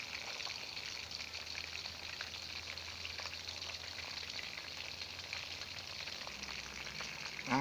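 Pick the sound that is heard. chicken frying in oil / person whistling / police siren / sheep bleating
chicken frying in oil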